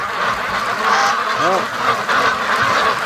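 Free-range ducks quack and honk in a busy flock over steady wind noise outdoors, with a brief exclamation from a person nearby.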